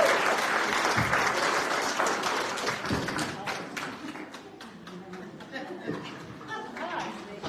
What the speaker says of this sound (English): Can we give these two a round of applause?